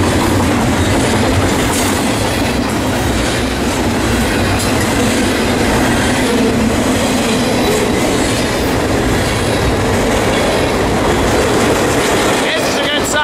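A heavy outbound BNSF port freight train passes at Fullerton. Its loud, unbroken rumble and clatter of rolling wheels fills the whole stretch up close, with faint talk under it.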